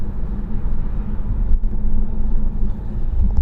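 Inside a Mercedes E350 CDI Sport AMG estate with a 330 bhp diesel engine, a steady low road and engine rumble carries on an autumn drive, with no voices.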